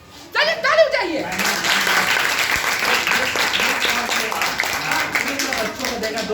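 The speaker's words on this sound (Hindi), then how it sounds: "चलिए ताली बजाइए" A room of schoolchildren at a girls' middle school event breaks into applause after a brief spoken prompt, the clapping rising quickly and holding steady as a dense crowd sound before tapering slightly at the end.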